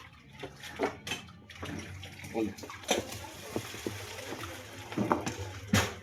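Hot boiled broth from chicken liver and gizzards is poured out of a pot, a steady splashing, gurgling stream heard close with some clanks of the pot.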